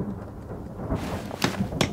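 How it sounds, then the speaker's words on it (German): Steady rain hisses in the video game The Forest, with rumbling thunder and sharp crackling bursts swelling through the second half, loud and unbroken with no voices. "Scheiß Regen jetzt hier."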